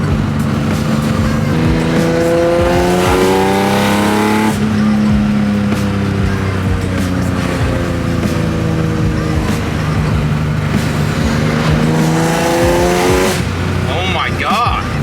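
A BMW E30 fitted with an S54 engine revs hard through repeated rising and falling sweeps as the driver rev-matches on downshifts, loud and close with tire noise.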